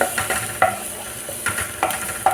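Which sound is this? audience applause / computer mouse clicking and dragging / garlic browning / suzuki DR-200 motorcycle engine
garlic browning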